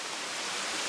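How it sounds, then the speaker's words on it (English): Underground spring water flows out from the side of a pool at Ikogosi, a dense, steady rushing wash that is loud and continuous with no voices. "As you can see, there is water coming out from that side."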